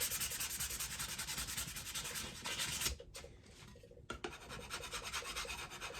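Steady, gritty rasping of sandpaper rubbed back and forth by hand on a sticky wooden cigar box, close up, with a brief pause midway before the scrubbing resumes.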